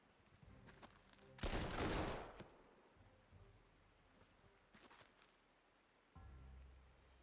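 Rain in the wartime strategy game Panzer Corps 2, a brief loud wash of rainfall about half a second long over a low game ambience, followed by soft drops and low rumbling tones.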